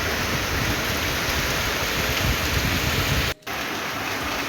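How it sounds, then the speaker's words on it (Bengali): Heavy rain pouring steadily in the morning, a dense, loud hiss of water on surfaces that continues without a break apart from a momentary cut. "আবারও ভারী বৃষ্টি শুরু হয়েছে।"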